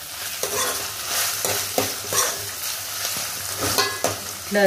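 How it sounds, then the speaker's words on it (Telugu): Dried shrimp frying in a pan for a ridge gourd curry, a constant sizzle broken by repeated scraping stirs of the spatula, close and fairly loud, with no talking. "ఫ్రై రొయ్యలు కొద్దిగా కలర్ మారేదాకా ఫ్రై చేయాలి."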